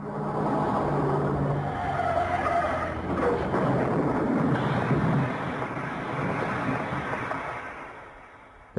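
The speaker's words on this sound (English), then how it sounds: "There had been a car crash." A car skids and crashes: a loud, sustained rush of tire and road noise that swells and fades over several seconds, ending in an abrupt sharp hit.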